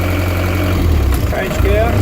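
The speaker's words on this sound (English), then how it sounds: "Give it a rev." A car engine is revved in first gear with the gearbox working normally, giving a loud, steady low drone from close by with a short rising whine toward the end.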